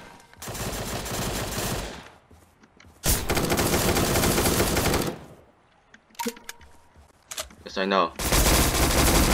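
Pistol gunfire in the browser battle game Surviv.io, bursts of rapid shots in two long volleys with quieter gaps, then more shots at the end, and a voice speaking briefly in between.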